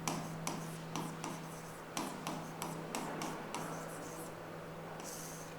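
Writing on a board in a classroom lesson gives soft, quick tapping and scratching strokes at an uneven pace, quiet and close, over a steady low electrical hum.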